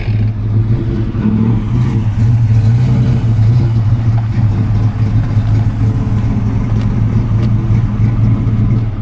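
A late-model Ford Mustang at an outdoor car show gives a loud, steady, deep engine rumble that holds evenly throughout, with no voices.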